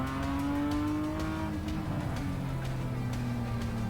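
A car with a 3-litre engine drives hard around the Sydney Motorsport Park race track, its engine tone rising steadily then dropping and climbing again as it shifts, loud and close throughout with no talk.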